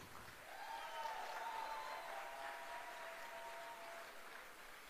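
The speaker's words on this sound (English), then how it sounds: "So let's give a big round of applause." An audience claps steadily, a dense wash of applause holding at an even level throughout with no one speaking.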